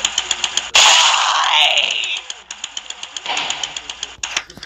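A moped engine in the Happy Wheels video game puttering with a rhythmic knocking idle, broken by a loud burst of crashing noise, then the repetitive chugging returns up close.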